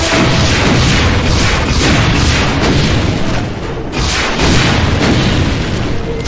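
Rocket explosions in Brutal Doom, a first-person shooter, make loud, heavy booms that roll one into another with barely a pause, filling the whole stretch with dense blast noise and no talking.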